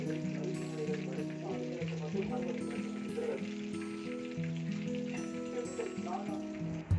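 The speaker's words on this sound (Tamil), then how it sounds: "அண்ட் அதுக்கு நம்ம 2 minutes ஹீட்டில் ஃப்ரை பண்ணாலே போதும்." Homemade KFC-style chicken strips deep frying in hot oil, a dense, continuous crackling sizzle close by, running steadily with a faint tonal background underneath and no talk.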